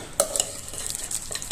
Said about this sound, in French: maintenant on va remettre une couche de pommes de terre